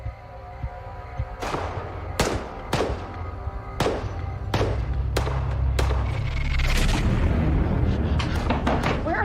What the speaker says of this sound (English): It's just a weird feeling hearing gunshots.